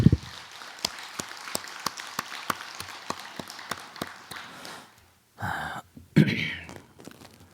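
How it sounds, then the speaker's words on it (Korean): Sparse, separate claps from a temple congregation in a Buddhist dharma hall, spaced evenly and fairly faint, followed by a couple of short louder bursts near the end. "시험 잘 치라고 박수를 한번 크게 쳐주세요"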